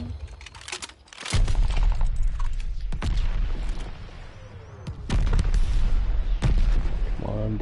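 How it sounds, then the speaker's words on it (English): Mortar fire and other heavy explosions in the World War II shooter Call of Duty: Vanguard, with loud booms landing one after another over constant battlefield rumble. A voice talks beneath the blasts. "Friendly mortar fire coming."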